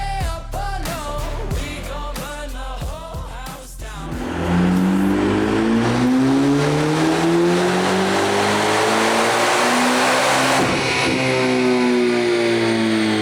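A tuned Chevrolet Corvette C8 ZR1 making over 1,000 wheel horsepower gives a few sharp, stuttering revs, then climbs into a long, loud, sustained engine howl that rises through the gears close by.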